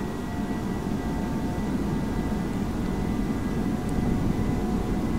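Airbus A321 engines spooling at takeoff thrust in the Prepar3D flight simulator, a steady, loud broadband jet roar with a low rumble that holds evenly throughout.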